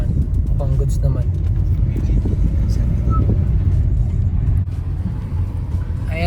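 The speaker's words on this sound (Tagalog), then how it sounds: "Parang pinapainit yung sasakyan, men." Toyota Camry engine warming up, a steady low rumble that holds close and loud throughout, with people talking over it.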